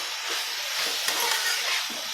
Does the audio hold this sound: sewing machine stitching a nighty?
no